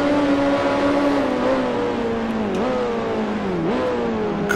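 A 1968 Formula 2 race car engine at Thruxton in Grand Prix Legends screams at high revs, loud and close, its pitch dipping and rising twice through gear changes and corners.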